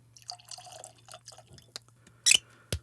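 Teeling Irish single malt whiskey, 46% ABV and non-chill filtered, poured from the bottle into a glass: a few quiet drips and trickles, then a brief louder splash of liquid and a final clink near the end, close by, with no talk.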